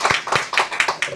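A church congregation claps in welcome during a Sunday service, with about six sharp, separate claps in an uneven rhythm, close and fairly loud, each one ringing briefly in the room.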